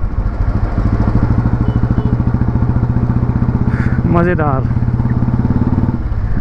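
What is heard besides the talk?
2004 Royal Enfield motorcycle engine beat while riding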